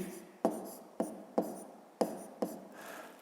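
A pen writes numbers by hand in five or six sharp, close strokes at about half-second intervals, each a quick scratch that fades, with a fainter scrape at the end.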